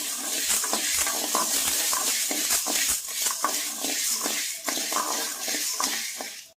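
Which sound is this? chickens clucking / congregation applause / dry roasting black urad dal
dry roasting black urad dal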